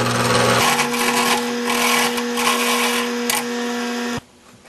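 A bench grinder hums with a steady motor whine while it sharpens a woodturning lathe tool in a pen-turning shop, then cuts off abruptly near the end, leaving only faint room noise.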